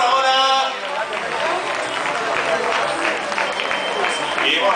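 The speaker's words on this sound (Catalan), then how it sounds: "aplaudiments per José El Haddad, guanyador de la faguera dels 10 quilòmetres de la prova de la mitja marató de Cambrils" Crowd applause at the finish line of the Cambrils half marathon greets a 10-kilometre race winner, with clapping and chatter running under a loud announcer's voice.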